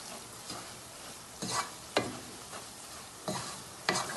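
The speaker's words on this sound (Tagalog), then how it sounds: "Haluhaluin mo pa kasi medyo mainit pa yung baka masunog pa yung bawang" A spoon stirs garlic chili sauce in a hot pan, giving soft intermittent scraping strokes in separate bursts over a faint sizzle, close and fairly quiet.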